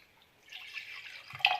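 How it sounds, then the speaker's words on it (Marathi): Water trickles and splashes briefly into a metal pressure cooker, starting faint and growing a little louder, ending with a small clink. "कुकरमध्ये पाणी टाकणार आहे"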